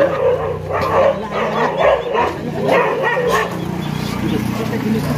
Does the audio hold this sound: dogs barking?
yes